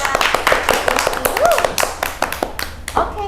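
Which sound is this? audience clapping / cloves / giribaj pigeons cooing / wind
audience clapping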